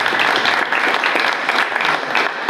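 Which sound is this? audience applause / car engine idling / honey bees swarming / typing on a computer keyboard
audience applause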